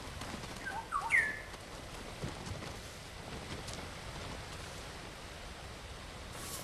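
A guiding bird in the video game Ghost of Tsushima gives a couple of brief, faint chirps early on, then fades into a steady wash of wind and ambient noise.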